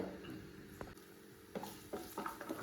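Ginger and garlic being stirred in coconut oil in a pan for a chicken dish, a soft continuous sizzle broken by a few scraping spoon strokes against the pan, close and fairly quiet with no talking.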